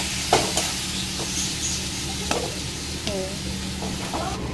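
Potatoes frying in a pan with garlic, chilli, turmeric, salt and ginger give a steady, close sizzle, broken by a few sharp scrapes and knocks of stirring.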